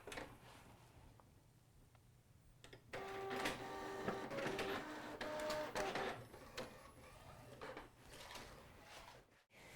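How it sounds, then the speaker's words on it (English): An inkAID-coated craft paper sheet feeding through a printer: a quiet lead-in, then mechanical whirring and clunking from the paper feed with tonal motor whines and rhythmic print-head passes. The sound is moderately loud and close, with a final thump at the end. "load it in your printer. It will accept it and run it right through"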